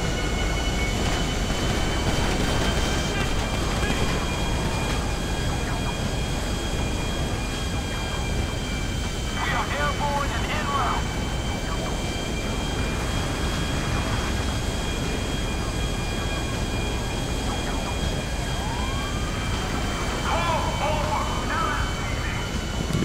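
Airplane engine in the GTA V video game at an airfield, a steady loud drone with tonal whine running through the whole stretch, while someone talks over it now and then.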